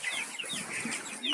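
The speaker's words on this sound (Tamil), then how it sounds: "இது பொட்டை கோழி" A hen clucking close by in a short burst of soft, broken calls, with a busy background of other poultry sounds and no talking.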